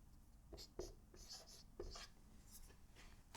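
Marker or chalk writing an equation on a board during a lecture on linearisation of dynamical systems: faint, soft scratchy strokes in short bursts, quiet and somewhat distant, with some room noise.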